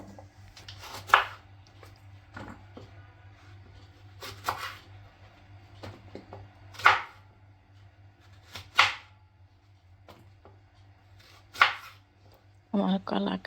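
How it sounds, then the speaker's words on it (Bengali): A knife slices raw green bananas on a board, giving sharp, separate chops spaced a second or two apart over quiet background hum. "এখন আমি কলাগুলি কেটে নেব। 2 ফালি করে কেটে নেব।"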